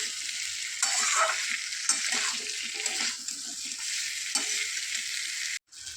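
Mixed vegetables with a fish head and spices sizzle and fry in a pan while being stirred, with a steady crackling hiss broken by scraping stirs and a brief clatter near the end.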